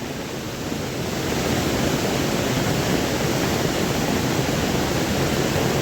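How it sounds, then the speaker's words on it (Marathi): A rain-swollen stream rushes past close by during heavy rain, giving a loud, steady, broadband roar that swells after the first second and then holds constant. "पाणी वाढला काय पायाक येऊन लागूक लागला आता"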